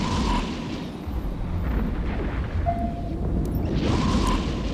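Ship explosion in the space game EVE Echoes as a Ferox is destroyed: a continuous rumbling blast texture with brief tonal beeps and whooshes over it, loud and sustained for about five seconds.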